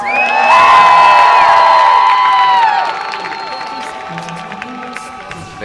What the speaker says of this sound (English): If you want Sullivan to take this one over at home, online, wherever you are here, let me hear you cheer